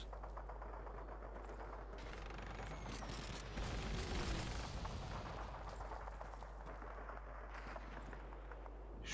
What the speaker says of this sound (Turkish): Şimdi tek atarımızı alalım. Hedefleri vuralım arkadaşlar.